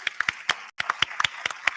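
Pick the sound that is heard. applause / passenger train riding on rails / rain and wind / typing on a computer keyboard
applause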